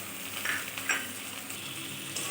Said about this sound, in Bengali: পেঁয়াজটা অল্প ভেজে দিয়ে দিচ্ছি টমেটো আর কাঁচা লঙ্কা চেরা